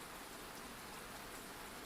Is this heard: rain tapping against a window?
yes